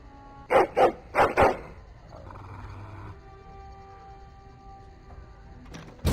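A dog in the game Dragon Age Origins gives four loud, close, rapid bark-like growls in quick succession, followed by a low quiet rumble and background ambience.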